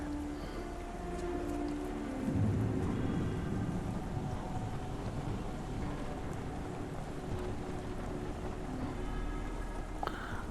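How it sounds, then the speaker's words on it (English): Stormy weather in the Sherlock Holmes The Awakened game, set in Scotland: a continuous dense wash of rain and wind noise holding steady throughout, with a faint low rumble and no talk. "This weather is so bad. Do you think a storm is coming?"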